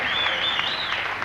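Dense, steady applause from a crowd at a 1989 ladies' tenpin bowling tournament after a strike, a continuous wash of clapping with a faint commentator voice behind it.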